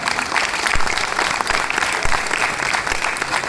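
Loud, dense audience applause at a live stage event honoring a drama writer and performer, steady sustained clapping from a crowd throughout.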